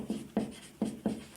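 Handwritten notes being put down with pen on paper during a business management lesson, a few distinct scratchy strokes in a quiet room, fairly close and soft.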